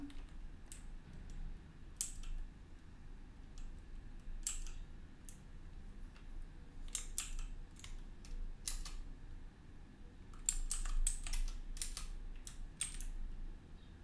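Keys are tapped on a computer keyboard in short, irregular bursts of crisp clicks, fairly quiet and close, with pauses between words and a quicker cluster near the end.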